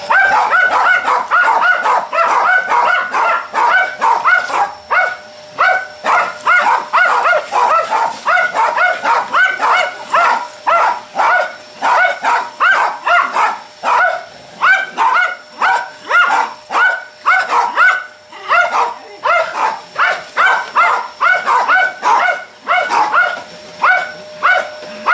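A small dog left alone barks and whimpers in quick, repeated high yips, close and loud, keeping up a steady agitated rhythm the whole time.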